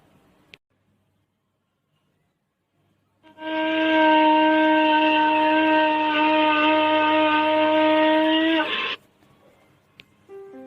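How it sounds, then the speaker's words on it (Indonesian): A fu, a traditional musical instrument from Maluku, sounds one sustained, loud, steady horn-like tone with rich overtones for about five seconds, preceded and followed by near silence. "Nah, seperti ini bunyi alat musik fu."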